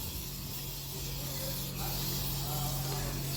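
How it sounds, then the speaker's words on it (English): A spray gun lays pink paint onto an etch-primed car panel inside a shed, giving a continuous close airy hiss that swells slightly louder partway through, with a low steady hum beneath. "filling my shed with overspray"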